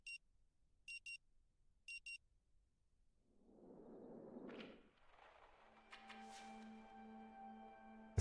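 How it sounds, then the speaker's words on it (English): Alarm in the video game Rue Valley: three short bursts of high electronic beeping about a second apart, fairly faint, followed by a rising whoosh and lingering tonal hum, with no talk. "The frantic sound of the alarm nudges you back to the present."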